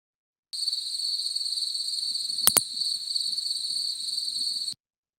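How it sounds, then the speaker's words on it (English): A pallid bat gives a single sharp double click of echolocation midway through, a quick pair of ticks set against a steady, thin insect-like whine that runs throughout. "There's just one little double click in the middle of that little sound bite, and that was a pallid bat"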